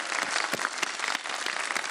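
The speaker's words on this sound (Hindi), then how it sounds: "तालियां बजा दें भाई बहुत सारे।" Studio audience clapping during a children's segment of a Ramadan iftar TV show, a brief, dense patter of many hands, steady and moderately loud throughout.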